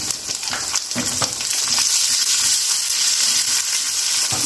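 Crushed garlic and cumin sizzle loudly in a steel pan, a dense and constant frying hiss with a few faint scrapes of stirring mixed in.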